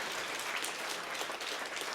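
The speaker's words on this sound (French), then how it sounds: "Ils sont tous ravis, ils applaudissent" Audience applause at a live event on the circular economy, a dense steady clatter of many hands clapping throughout, fairly loud and close with no talking.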